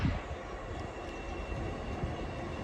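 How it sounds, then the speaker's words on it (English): A two-carriage passenger train pulls into a station on the line to Leeds, heard as a faint, steady low rumble and hiss with no clear individual clanks and no talking. "ये आ गई मेरी ट्रेन।"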